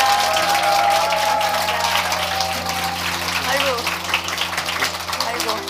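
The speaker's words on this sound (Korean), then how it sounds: "우리 두 분께 박수." A studio audience at a Korean talk show claps for two guests. The applause is loud, dense and sustained throughout, washing over a faint low hum.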